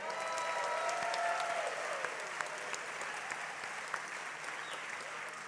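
Steady, dense applause from a film festival audience for the organist, filling the room evenly and holding throughout.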